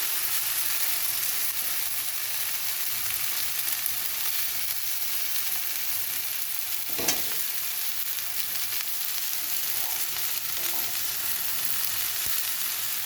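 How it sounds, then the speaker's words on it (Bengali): Okra fries in a modest amount of oil for a bhujiya, a continuous close sizzle that holds steady for the whole stretch with one brief sharper crackle near the middle. "একটু কম তেল দিয়েছি, ছাকা তেলেও ভাজা যায়।"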